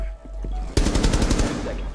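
Rapid automatic gunfire in Rainbow Six Siege, a loud close burst of about a dozen shots lasting under a second after a short quieter lead-in.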